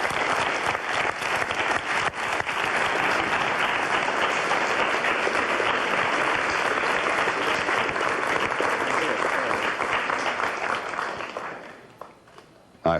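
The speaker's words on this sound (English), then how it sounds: "I hope they know that they're applauding themselves." A studio audience of children and older adults applauds during a televised special, a loud, sustained wash of clapping that holds steady for several seconds before tapering off near the end.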